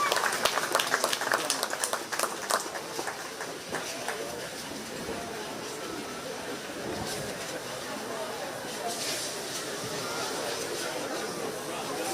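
An audience at a county fair 4-H sheep and goat show claps for a winner, a burst of applause that tapers into scattered claps and murmuring chatter.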